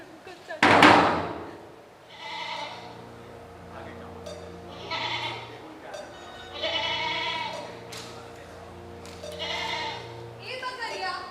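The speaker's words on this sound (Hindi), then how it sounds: "माई, संभाल अपनी बकरी को।" Goat bleats in a Hindi stage drama: a series of wavering, nasal bleats spread across the scene, following a sharp knock near the start, with other sounds and possible voices in the background.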